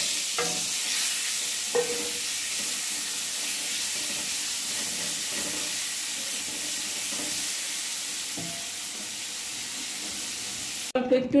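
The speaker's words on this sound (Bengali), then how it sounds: "তেলটা গরম হয়ে গেছে। এবার ডিমগুলো আমি একটু ভেজে নেব।" Steady hiss and sizzle of eggs frying in a spoonful of hot oil in a pan, continuous and moderately close, with occasional scraping stirs and a clatter right at the end.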